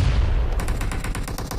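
Rapid gunfire in a shooter video game during a team deathmatch, a steady burst of evenly spaced shots for about a second over a low rumbling game background.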